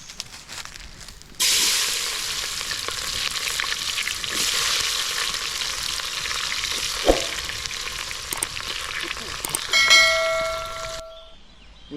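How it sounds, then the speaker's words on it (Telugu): Chopped onions for a chicken curry drop into hot oil and sizzle steadily and loudly up close, with brief metallic clangs and stirring scrapes near the end before the frying cuts off. "ముందుగానే మనం తరిమిన ఉల్లిపాయలు వేయాలి"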